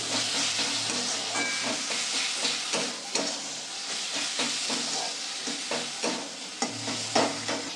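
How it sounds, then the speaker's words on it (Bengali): Spice paste for bata fish curry frying in a pan, a steady close sizzle with repeated scraping strokes of a spatula stirring through it at an uneven rhythm. "আবার কষিয়ে নেবো একটু"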